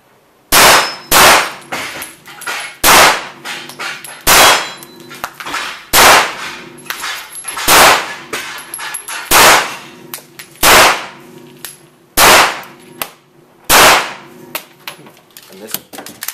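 A handgun at a shooting range in the Czech Republic fires about a dozen sharp, close reports at irregular intervals across sixteen seconds, each with a ringing, clanging decay.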